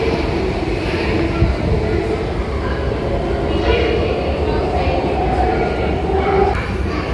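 A metro train rumbles and rattles steadily as it pulls into Cubbon Park station, a loud continuous rolling noise with some voices underneath.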